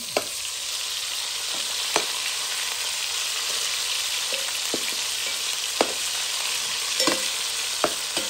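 Smoked sausages fry in a pan with a constant, even sizzle and a few sharp pops and spatters scattered throughout, close up and with no talking.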